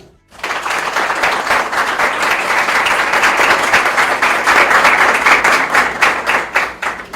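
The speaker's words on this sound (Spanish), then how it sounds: "para quien pedimos un aplauso" Audience applause for a journalist and TV news presenter at a youth journalism talk, steady dense clapping from a sizable crowd that swells in and holds loud for several seconds before thinning slightly at the end.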